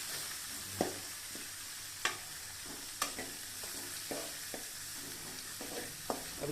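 Rava upma ingredients sauté in oil in a pan under a continuous sizzle, with a spoon scraping and knocking against the pan in irregular sharp taps every second or so.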